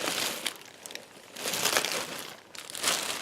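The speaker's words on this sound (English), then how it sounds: "I'm putting it right back in its plastic bag." Yarn is pushed into a plastic bag, giving loud close crinkling and rustling in several bursts over a few seconds, with no talking.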